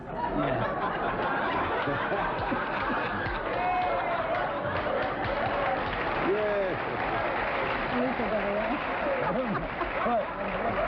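A television game show studio audience applauds continuously, with scattered laughter and chuckles rising through the clapping and some talk in between.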